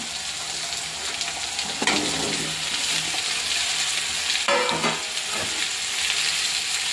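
Continuous sizzling hiss of ash gourd frying in a pan with cumin, with occasional scraping sounds as it is stirred; no voices.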